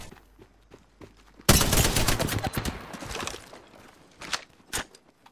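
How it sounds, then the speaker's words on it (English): Gunfire in the battle royale game Apex Legends: after quiet scattered taps, a sudden loud burst of rapid automatic shots, then a few isolated single shots trailing off. "I'm getting shot at."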